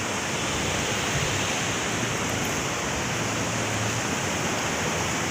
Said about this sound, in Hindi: हमारे पीछे आप देख सकते हैं कि कितनी बड़ी नदी है और देखो पानी कितना सारा है